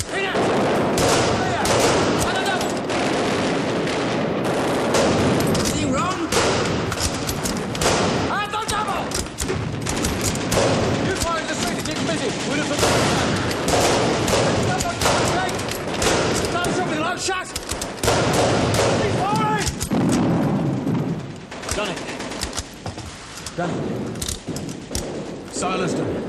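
Rapid bursts of machine gun fire and scattered gunshots, loud and close, rattling almost nonstop in a war scene with shouted voices mixed in.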